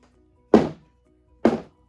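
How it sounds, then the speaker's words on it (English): Two separate hard thunks about a second apart as a cake pan filled with key lime pound cake batter is banged down onto a kitchen counter to knock out air bubbles, each impact loud and close with a short decay. "now we're going to shake it and bang it to get the air bubbles out."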